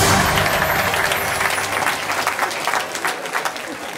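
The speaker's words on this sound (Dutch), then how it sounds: "Een groot applaus voor de winnaar" A crowd applauds the winner at a regional sports and business awards evening, a loud burst of clapping that gradually thins and fades over a few seconds.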